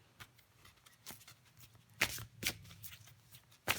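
Tarot cards being shuffled by hand, a quiet series of soft riffling swishes and a few sharper snaps, close up with no talk over them.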